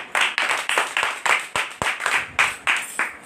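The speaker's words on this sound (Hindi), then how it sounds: "सारे तालियां क्या करें?" A congregation at a Monday prayer meeting claps in a quick, steady rhythm, the sharp beats layered over a dense wash of many hands filling the room.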